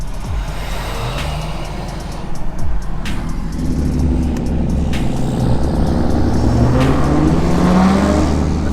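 A straight-piped BMW E92 M3 rumbles loud and close at a stoplight, a deep uneven idle swelling into throaty revs with rising pitch over the last seconds, with no talk.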